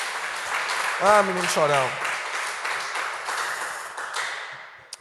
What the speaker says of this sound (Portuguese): Dê um aplauso, Senhor Jesus.